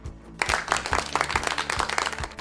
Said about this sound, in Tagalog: Isang malakas na palakpak para sa inyong sarili!